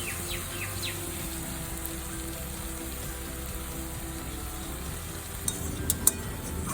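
Small fried kachki fish laid over vegetables in a little water simmer in a pan on very low heat, giving a steady, soft, close hiss and bubbling that runs throughout. A few faint clicks come near the end, with no voices.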